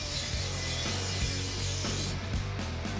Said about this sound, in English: I'm using a die grinder and a coarse resurfacing disc to finish things up